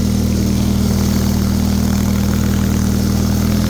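A Bolens HT23 snowblower engine drones loudly and steadily at about half RPM, a constant low pitch, close by, with no voices.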